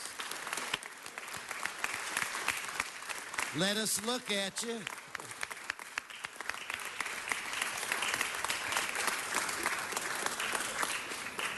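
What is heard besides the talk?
audience applause at city council meeting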